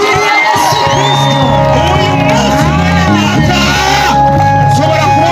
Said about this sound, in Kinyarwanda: Mwakomeye Imana amashyi.